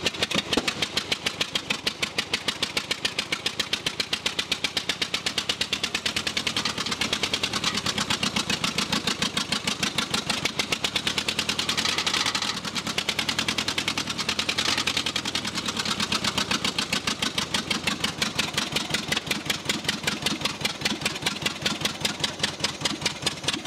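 Engine of a Tractomotive TL10 loader, in no-start condition, turned over by a cordless 1-inch impact wrench: a loud, steady, rapid hammering chatter with rhythmic cranking pulses that runs continuously for over twenty seconds, with no talking.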